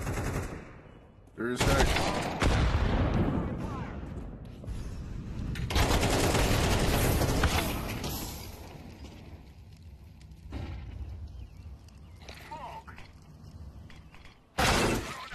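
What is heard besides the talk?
gunfire from Counter-Strike 2 video game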